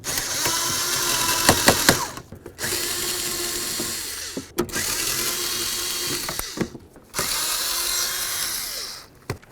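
Power driver backing out mounting screws from under the dash of a 1998-2011 Ford Ranger, close whirring bursts separated by short pauses and small clicks, about four runs in total with no talk.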